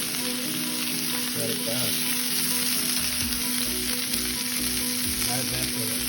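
A steak sizzles loudly and steadily in a hot pan, a dense continuous hiss up close, while someone briefly speaks over it.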